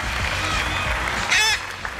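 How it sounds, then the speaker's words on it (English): Talent-show audience applause, a steady mass of clapping with a brief squawking animal call rising over it near the end. "big applause for our friend Roberto."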